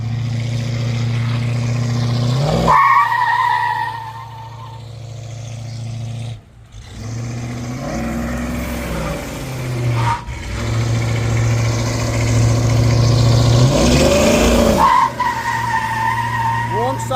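A 1979 Chevrolet Malibu coupe with dual exhaust does a burnout, its engine roaring and revving hard while the tires squeal and skid in long bursts, loud and close, as people talk over it.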